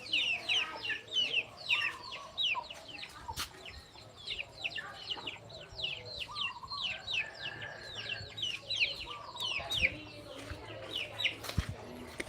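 Chickens cluck and chatter near a rural farmhouse in Surin, Thailand, a busy flock of short repeated calls close by, with a few sharp knocks and faint background noise from the yard where buffalo are kept.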